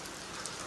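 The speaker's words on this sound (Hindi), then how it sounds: "बारिश इस टाइम तक आ रही है" Steady rain falls at night during a Ganpati festival outing, a soft, even hiss of drops with no breaks, faint and alone.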